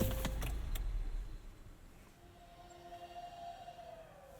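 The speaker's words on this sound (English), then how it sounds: "Little race car noise there." A 2019 Acura RDX A-Spec gives a few sharp clicks over a loud engine rumble, which then drops to a quieter hum with a faint rising electronic whine.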